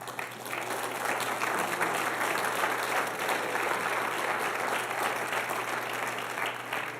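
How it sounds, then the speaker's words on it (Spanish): Sustained congregation applause fills a church service, a dense, steady wash of many hands clapping at even loudness for several seconds, with no voices standing out. "los aplausos para Dios me quitan la sed"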